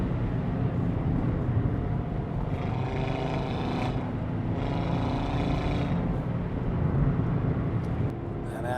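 A 2018 Audi RS3 Quattro accelerates through the gears, its engine drone rising and falling under steady road noise from inside the car, with a person talking throughout.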